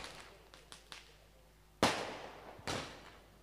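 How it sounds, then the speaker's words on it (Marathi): Firecrackers and fireworks go off at a tournament trophy inauguration. A few small pops lead into two sharp, loud bangs about a second apart, each trailing off into a noisy crackle. "फटाक्यांची आतिषबाजी।"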